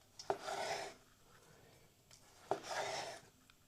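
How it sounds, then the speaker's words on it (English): Two soft, drawn-out cuts as a knife slices a chicken fillet into thin strips on a board, each stroke a brief rasping swipe close by, separated by a quiet pause. "with your chicken breast, or, well, in my case, a chicken fillet, you're always going to cut at an angle, but just do small strips, like that"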